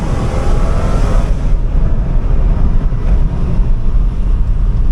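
A 2008 Cadillac XLR-V with its 4.4L engine pulls hard under acceleration, a loud, steady low engine roar with road and wind noise on a bumpy drive.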